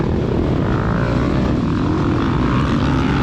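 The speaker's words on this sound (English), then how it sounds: "I bogged off the line there and really just the bike wouldn't go anywhere." A motorbike engine in a racing video game bogs off the start line. It gives a steady, dense, loud drone for three seconds with no change in pitch or volume.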